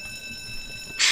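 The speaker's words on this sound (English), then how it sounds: "I got an alarm going off." An alarm in a museum in the Roblox game Jailbreak goes off abruptly at the very end, a loud, bright electronic ring after a quiet stretch.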